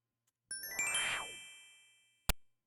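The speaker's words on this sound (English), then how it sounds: "that chime is still going at the same time the whoosh starts." A word game's sound effects: a bright multi-tone chime rings out and sustains, overlapping a rising whoosh, then fades before a short sharp click near the end, with no talking.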